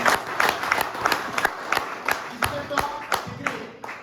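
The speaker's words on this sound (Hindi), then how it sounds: "जोरदार तालियां दीजिए" A crowd claps loudly at a motivational business meeting, distinct, rapid hand claps rising and falling, while a voice briefly sounds underneath.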